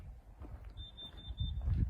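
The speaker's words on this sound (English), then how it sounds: "the carbon monoxide alarm was going off" A high-pitched alarm sounds in a rapid string of short, shrill beeps, fairly faint against low rumbling background noise.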